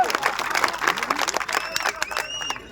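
A crowd at a village wrestling final in Karauli, Haryana, breaks into scattered clapping and cheering, moderately loud and uneven, while an announcer's voice carries over it.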